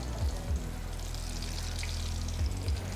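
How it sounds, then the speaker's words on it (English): Chickpeas fry in hot oil with a steady sizzling hiss, close and moderately loud, joined by a few low bubbling thumps, and no talking. "Now we're going to fry the chickpeas."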